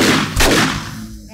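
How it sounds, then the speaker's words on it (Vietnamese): An explosive arrow bursts in the zombie survival game 7 Days to Die, Darkness Falls mod: one sharp, loud blast with a low rumbling tail that fades over about a second. "Bắn tên nổ ạ, một phát chết"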